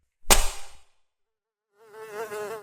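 A fly buzzes in an anime scene, a steady whining drone rising at the end, preceded by a sharp impact and fading noise, with no talk.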